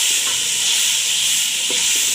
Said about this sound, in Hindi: अब हम इसमें साथ ही टमाटर ऐड कर देंगे और अच्छे तरीके से इसको भूनेंगे फिर से।